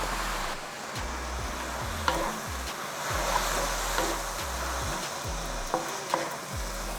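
Kimchi sizzles and crackles as it is stirred into a hot pan with a seed and chili mixture, a steady loud frying hiss broken by a few sharp pops and scraping stirs.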